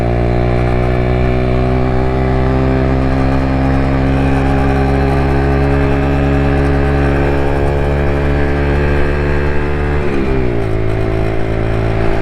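Lexmoto Tempest motorcycle engine idling steadily and loudly up close with a persistent rattle, the pitch dipping briefly near the end before settling again.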